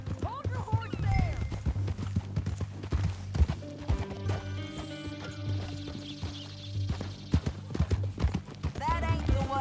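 Horse hooves clip-clop in a steady rhythm close by, with people talking over the clopping and occasional louder knocks.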